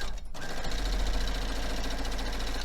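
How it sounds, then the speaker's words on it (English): A sewing machine runs steadily stitching rows of a quilt block, a fast continuous mechanical whir with rapid needle chatter, close and loud with no pauses. "I'm going to sew the one side first."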